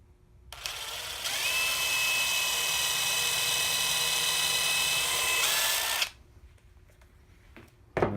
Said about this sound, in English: There's more room for the drill, but now I got to stay lower.